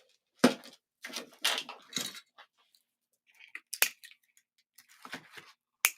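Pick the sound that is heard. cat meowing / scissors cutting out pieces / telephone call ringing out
scissors cutting out pieces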